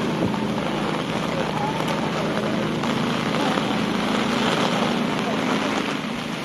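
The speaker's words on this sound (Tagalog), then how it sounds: "Lakas ng hangin." Strong typhoon wind roars continuously across the microphone at a fishport in Navotas, a dense steady rush of noise with no pauses, and a faint murmur of voices underneath.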